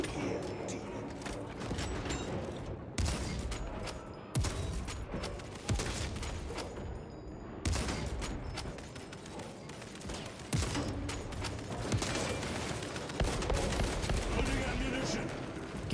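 Rapid bursts of bolt rifle fire and explosions from Warhammer 40K Space Marine 2 combat, loud and repeated in irregular volleys throughout, with a voice talking over the fighting.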